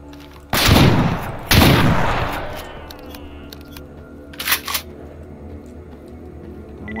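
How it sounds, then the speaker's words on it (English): Shotgun firing in the video game Stalker Anomaly: two loud, close blasts about a second apart, each trailing off in a rumbling echo, then a smaller pair of sharp sounds a few seconds later. "We'll use a shotgun on him."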